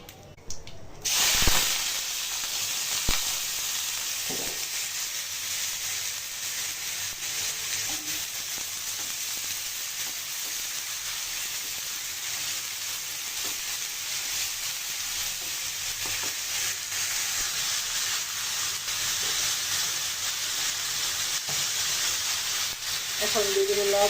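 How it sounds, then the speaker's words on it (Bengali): Bitter gourd (ushta) sliding into hot oil with dried red chilies sizzles steadily and closely for the whole span, with a sharp clatter near the start, scattered stirring clinks, and no talk. "তেল দিয়ে দিয়েছি, শুকনো মরিচটা লাল লাল হলে ভাজিটা দিয়ে দিব।"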